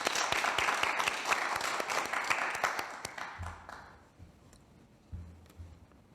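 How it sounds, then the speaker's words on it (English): An audience at a lecture applauds a speaker with a dense burst of clapping that thins out after a few seconds into faint scattered sounds. "Please a round of applause for Elten Kiene"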